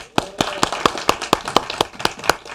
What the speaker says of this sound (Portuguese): Então, bate palma, vamos ver